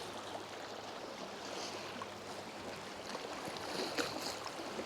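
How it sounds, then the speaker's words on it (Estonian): Small waves lapping steadily on sea water during a quiet solo fishing trip, a soft continuous wash with occasional light splashes, fairly close and alone without talk. "Väike lainetus on peal"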